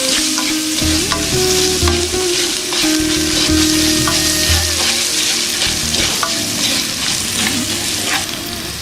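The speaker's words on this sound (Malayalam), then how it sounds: "ഇതൊക്കെ കൂടി നന്നായിട്ടൊന്ന് വഴറ്റാം" Elephant-foot yam stems are sautéed with turmeric and salt in a pan, giving a loud, steady frying sizzle with repeated scraping and stirring strokes throughout, and no voices.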